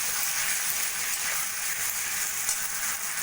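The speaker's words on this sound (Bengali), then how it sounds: "দিয়ে আরও 2-3 মিনিট মতো কষিয়ে নেব।" Gobindobhog rice frying with spices in a pan makes a steady, close sizzle with a constant crackling hiss and no voices.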